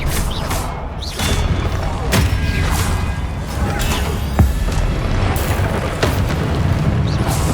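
Booming spell impacts and thuds in Hogwarts Legacy land over continuous game background noise, with one sharp hit standing out midway and several softer bursts spread across the stretch.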